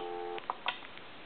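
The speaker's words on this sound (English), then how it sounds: "So the phone is actually on hold right now, and there wouldn't be any transmit or receive." A German Post Office telephone put on hold gives a steady held tone for a moment, then cuts off into a few faint clicks and taps on the handset.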